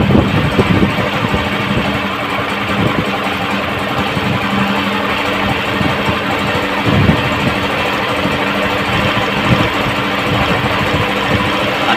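A Honda CG125 motorbike engine idles steadily up close while running rich, a continuous heavy rumble with uneven knocking pulses.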